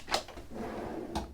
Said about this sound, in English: So these are drawers